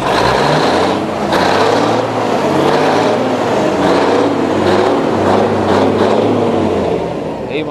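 A Mercedes O303 double-decker bus engine runs loud and steady close by, a continuous rumbling drone with a few throttle surges, heard alone without speech.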